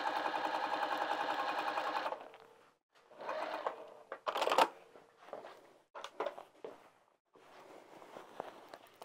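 A sewing machine runs a quick seam to close a fabric bag, a steady whirring burst of stitching first, then shorter start-stop runs and handling noises.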